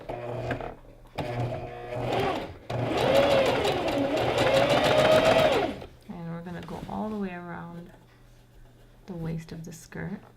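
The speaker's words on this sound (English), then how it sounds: "we're going to use a wide zigzag stitch, and we're going to sew over the top of the thread" A sewing machine runs a wide zigzag stitch over a length of thread while gathering the skirt of a maxi dress, one steady whirring burst of about three seconds with talking before and after.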